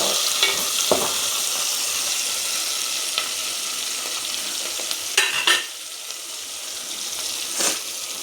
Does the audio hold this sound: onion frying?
yes